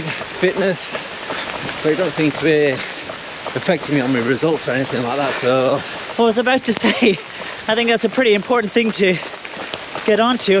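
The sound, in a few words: rain falling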